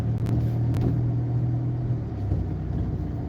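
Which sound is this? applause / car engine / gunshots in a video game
car engine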